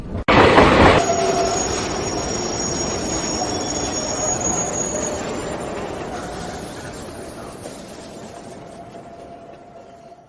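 A train sound effect bursts in loud with a sharp onset, then a steady rumble of rolling rail cars and high squealing wheels that slowly fades over several seconds.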